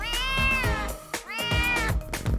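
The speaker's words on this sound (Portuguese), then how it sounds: "Seu primeiro gatinho." A kitten meows loudly and close by, two drawn-out tonal calls with a short gap between them and no talking over them.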